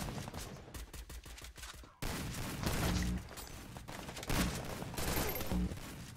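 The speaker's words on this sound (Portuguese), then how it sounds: "O cara dá 4 tiros." Rapid bursts of video-game gunfire, a volley of shots in quick succession, then a louder sustained stretch of firing with sharp repeated cracks, no talking.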